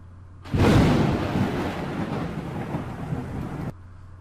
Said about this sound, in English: We've got our thunder and we've got our lightning.